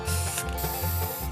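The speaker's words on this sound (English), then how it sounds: "Spray paint the case silver" A spray paint can hisses as it coats a tap light case silver, a steady airy spray in two close bursts with a short gap between them and faint mechanical clicking underneath.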